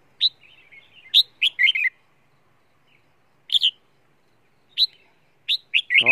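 A pet bird chirping in short, sharp bursts, clustered calls separated by quiet pauses, close and clear with no talk.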